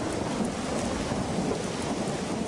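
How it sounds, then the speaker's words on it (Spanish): Steady rain pours over the Amazon rainforest in the rainy season, a dense continuous hiss with a low thundery rumble beneath, even and unbroken throughout. "La precipitación cae sin cesar durante la temporada de lluvias en la Amazonia"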